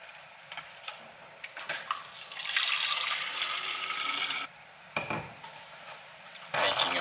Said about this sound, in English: Making a mess of water here.